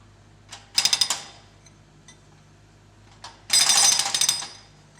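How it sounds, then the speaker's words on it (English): Hydraulic breaker on a digger arm hammering pavement, two loud bursts of rapid, rattling percussive blows over a low engine hum, separated by quieter pauses with a few isolated knocks. "In the digger cabin, a man controls the digger arm and breaker."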